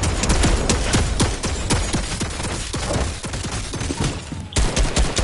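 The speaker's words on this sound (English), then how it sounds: "Is he shooting you?" Rapid bursts of gunfire from a Fortnite match crackle close and loud almost continuously, rhythmic shots stacking into fusillades with a brief lull before a final volley, no one talking.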